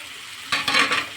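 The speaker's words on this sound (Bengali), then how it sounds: "এবার ভালোভাবে মাংসটাকে মশলার সাথে কষিয়ে নেব।" Fried chicken meat stirred with spices in a hot pan, one short burst of scraping and sizzling after a quiet simmer, no voices.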